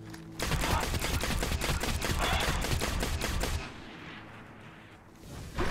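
Rapid bursts of gunfire from a player's weapon in the video game Destiny, loud and continuous for about three seconds, then stopping, with a fresh burst at the very end.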